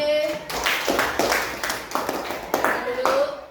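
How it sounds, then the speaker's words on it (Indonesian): A classroom of students applauds a fellow student named Ali: a ragged burst of hand claps runs throughout, mixed with brief voices. "Tepuk tangan untuk Ali."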